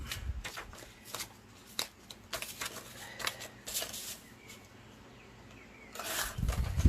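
Scissors cut through pattern paper for a ribbon-bound mini album in a series of quiet, crisp snips and rustles, irregularly spaced, ending with a louder burst of paper handling.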